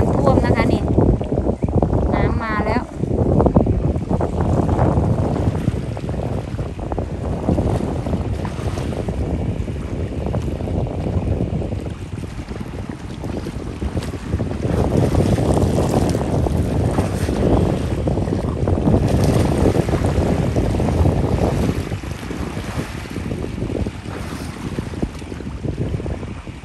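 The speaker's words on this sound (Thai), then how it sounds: "ลมแรงมากเลยนะคะ" Strong wind buffets the microphone outdoors during flooding, a steady loud roar with gusting surges, while people talk over it at times.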